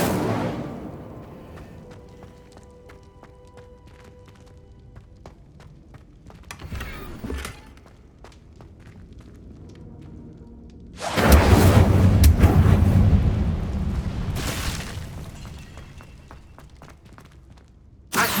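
Incendio fire spell cast in Hogwarts Legacy, a loud whooshing burst of flame that swells suddenly, holds for a few seconds and fades, after quieter thuds and ambient game sounds.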